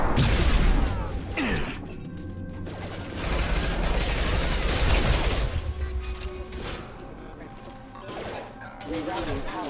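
Loud gunfire and crashing impacts from combat in Mass Effect 2 Legendary Edition, with shots and metallic clangs mixed under urgent voices shouting throughout.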